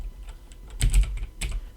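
A few quick keystrokes on a computer keyboard while working in the PHPStorm code editor, with close, distinct clicks including two louder key presses.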